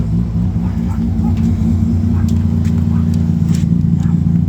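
A truck with a fully built turbocharged engine rumbles and revs steadily up close, a deep continuous engine drone with a few faint higher sounds over it and no clear talk.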